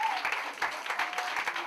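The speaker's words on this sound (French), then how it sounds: "Applaudissez-les." Audience applause in a comedy show's crowd, dense steady clapping through the whole stretch with a few voices mixed in.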